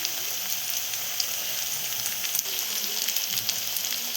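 Ginger and garlic frying in a pan for a red lentil and potato curry, a steady close crackling sizzle throughout with no talk.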